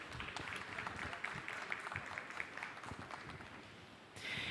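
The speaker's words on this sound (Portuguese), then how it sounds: "Uma salva de palmas," Audience applause welcomes a guest at a formal panel event, faint and distant clapping from a modest crowd, steady throughout, with a brighter rustle near the end.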